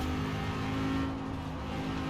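Lamborghini Huracan Performante engine in the racing game Forza Horizon 4, a steady loud droning hum holding at an even pitch for the whole stretch with a slight dip midway, no voices.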